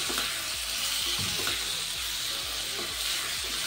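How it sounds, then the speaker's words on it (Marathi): Tomato sautés with dal and coconut pieces for appe, a loud continuous sizzle with occasional scraping stirs, close and without talk. "आता टमॅटोसुद्धा आपण या डाळमध्ये आणि खोबऱ्याच्या तुकड्यामध्ये परतून घेऊया छान"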